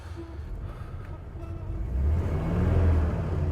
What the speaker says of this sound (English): this engine is not perfect, but it runs very smoothly and very quietly